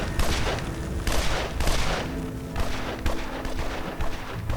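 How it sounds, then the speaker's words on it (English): Grenade blasts and bursts of gunfire from the video game Evil Genius, a dense run of loud repeated explosions and shots with no pauses. "And throwing grenades that's gonna mess up everything."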